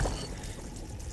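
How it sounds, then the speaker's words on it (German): Water being refilled in the survival video game Grounded, a soft continuous pouring and trickling wash, fairly faint, with no talking over it. "Einmal ein Schluck Wasser auffüllen und einmal."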